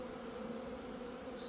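Honey bees buzz steadily across a hive frame where fresh pollen is being stored, giving a dense, even drone that stays close and continuous throughout.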